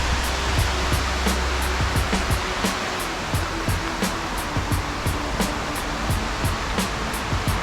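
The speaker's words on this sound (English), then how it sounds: "the river is right across from the sea area, very close to the sea area." Steady broadband rush of a river flowing close to the sea at Bluefields in Westmoreland, Jamaica, a constant near wash of water with faint rhythmic ticking layered over it and no voices.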